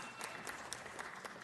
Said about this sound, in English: Let's give Mr. Huizar a round of applause.